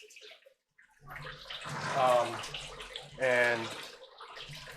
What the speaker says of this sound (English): I'm letting the water run into this tank.